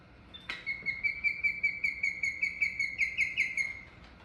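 A neotropical migrant bird sounds a rapid, regular series of about twenty clear chirped notes lasting several seconds, fairly close and alone over a quiet background, preceded by a brief sharp click.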